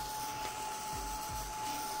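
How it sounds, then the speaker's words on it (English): A heat gun blows hot air to dry decoupage on a wooden organizer, giving a steady, loud, continuous rushing whir held at an even level throughout, with no talk over it. "Now I need to use my heat gun to dry this up."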